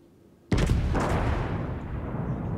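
A single heavy naval gun blast from the battleship Tirpitz in a video game starts abruptly after a brief quiet, then rolls into a long, loud, rumbling decay.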